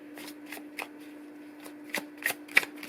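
Tarot cards being shuffled, with a few soft, irregular riffling bursts that grow slightly louder toward the end, heard close up over a steady low hum with no talking.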